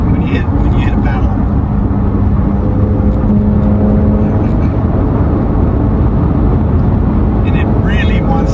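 A 2023 Corvette Z06 engine holds a loud, steady drone around 3,000 RPM, heard from inside the car with a person talking over it throughout.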